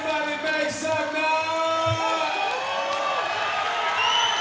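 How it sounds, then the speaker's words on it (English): Fans at a DFC10 fight event cheering and whooping during the final round, a sustained crowd roar kept fairly low beneath a commentator talking over it. "That is a crowd reaction."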